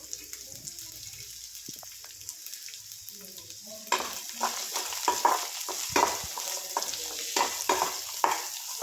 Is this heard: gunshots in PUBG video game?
no